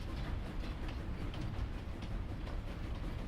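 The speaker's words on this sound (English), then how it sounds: "I wasn't expecting trains at all in Farming Sim" Train rolling along in Farming Simulator, a faint, steady low rumble with soft rhythmic clicking of wheels on track, no talk over it.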